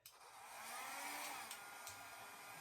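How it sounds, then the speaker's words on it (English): A blow dryer set on low, drying poured acrylic paint on a pumpkin and canvas, gives a steady, close airy whir that rises slightly and then holds for a couple of seconds with no talking. "I take my blow dryer"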